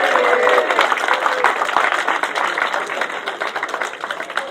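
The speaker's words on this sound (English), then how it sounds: "So second place, give them a cheer," A crowd at the 2017 British Sidecar Speedway Championship final at Belle Vue claps and cheers for the second-place sidecar team, a dense loud burst of applause that gradually thins out.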